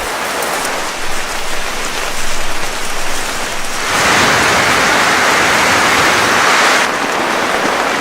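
Steady heavy rain pours down on a wet-season forest, growing into a louder, denser roar midway before easing back slightly, with no voices.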